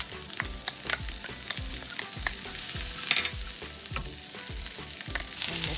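Cabbage and carrot frying with turmeric and curry leaves in a pan, a steady close sizzle broken by repeated scraping stirs of the spoon, with no talking.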